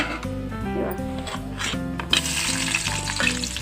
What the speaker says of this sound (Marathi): आता आपण आहे ना कढईत तेल घातलेलं आहे। आता आपण त्याला फोडणीला हे बघा कांदा घालणार आहे।